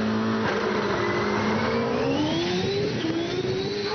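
A hillclimb race car with a 2.65-litre IndyCar engine accelerates hard, its loud, close engine note climbing steadily in pitch through the gears with a brief shift near the start.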